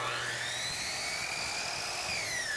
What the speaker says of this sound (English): slide our saw to the right 45-degree miter angle, position the molding in place, and we make our cut